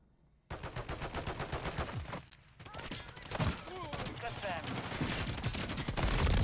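Akimbo JAK Wardens shotguns firing in Modern Warfare 3, a rapid run of loud, close blasts in quick succession with a short pause, mixed with game effects and a voice talking over it.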